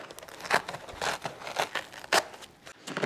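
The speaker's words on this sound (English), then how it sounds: "We'll go again, we'll peel out a couple more layers." Layers of craft foam being peeled apart by hand, giving irregular crinkly tearing and crackling bursts up close, several separate pulls over a few seconds with no talking.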